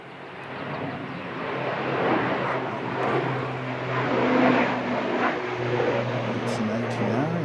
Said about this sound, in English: It's an ATR and he's off to Palmerston North